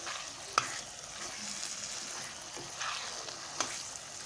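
Eggs are stirred into curry frying with potatoes in a pan, a faint, low sizzle with a few scattered scrapes and clinks of the spoon.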